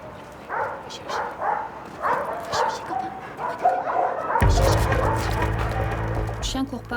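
Falco, a search dog with the Paris fire brigade, barks and whimpers in short repeated bursts while searching rubble, with a heavy rumbling engine or machinery noise coming in partway through.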